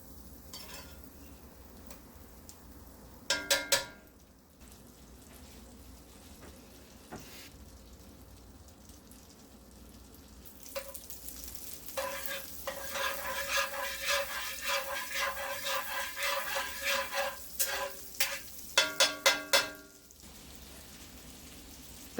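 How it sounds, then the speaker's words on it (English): Butter melting in a pan for bratwurst, with a steady crackling sizzle that swells midway as a spatula scrapes and stirs it around, punctuated by a few sharp clanks of the spatula against the pan. "As the butter melts, I'm going to use my spatula, stir it around, make sure it covers up all of the corners of the pan."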